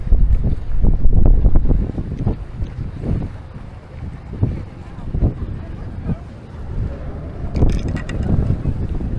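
Strong wind buffeting a boat at sea off Koh Larn, Thailand, with loud gusty rumbling microphone noise, water slapping and occasional creaks, fluctuating but constant throughout.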